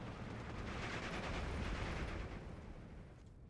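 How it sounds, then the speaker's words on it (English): Mortar fire pounds an 88 gun emplacement in the Steel Division 2 war game, a dense rumbling barrage of low booms and crackling impacts that swells and then eases slightly, with no voices over it. "88 now under attack from a mortar."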